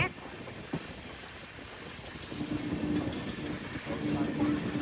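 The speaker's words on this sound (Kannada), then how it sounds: "ಸೌತ್ ಸೆಂಟ್ರಲ್ ಇಂದ ಮಂಗಳೂರು ಮೇಲೆ ಮುರುಡೇಶ್ವರಿಗೆ ಹೋಗೋ ಲಾರ್ಜೆಸ್ಟ್ ಟ್ರೈನ್ ನೋಡಿ" A large South Central train bound for Murudeshwar via Mangalore passes on a track near a gate, a low, moderately faint rumble that swells midway, with a tonal hum and some wind buffeting.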